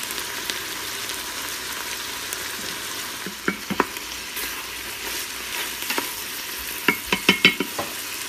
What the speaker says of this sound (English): you want to rinse your beans, sort them out, make sure there's no rocks in them